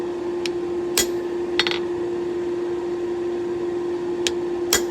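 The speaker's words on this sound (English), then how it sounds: "you're going to want to take you a slot punch, which is basically just a type of punch that makes a rectangular hole" A hammer drives a slot punch through a hot railroad spike on an anvil while forging a bottle opener. About four sharp, ringing blows land at irregular intervals over a steady background hum.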